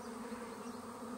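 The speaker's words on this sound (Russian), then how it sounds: "Там очень много пчелы." Honeybees swarming densely around a hive on a rural homestead, a steady, continuous drone of many wings close by, humming alone with no voices.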